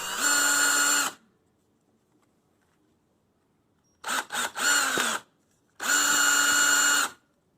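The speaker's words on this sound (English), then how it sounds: "So a couple little pilot screws here to make room for the rivet." Power drill boring small pilot holes for rivets into a Harbor Freight light housing being fitted as a steampunk bike lamp: three close, steady whines of roughly a second each, the middle one broken into short stuttering bursts, with quiet gaps between.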